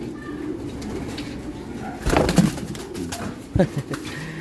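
A banded breeder pigeon coos in short, low bursts, faint against a noisy outdoor night background, with a couple of soft calls near the end.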